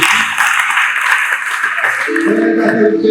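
Crowd clapping for God during a church worship service in Nairobi, a dense, steady wash of many hands throughout, with music and singing rising beneath it toward the end.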